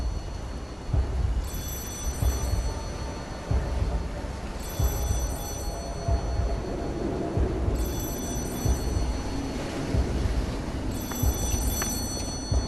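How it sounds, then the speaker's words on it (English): A telephone rings repeatedly in the video game Lies of P, its bell pattern recurring every few seconds over a low rumbling, throbbing game ambience, with no speech. "Another phone call."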